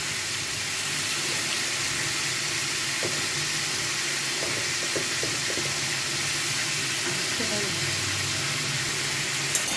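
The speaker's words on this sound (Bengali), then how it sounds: "এবার এটা একটু ভাজা" Boiled elephant foot yam and potato fry in hot oil with cumin, bay leaf and cinnamon, giving a steady, close sizzle throughout with occasional faint stirring clicks.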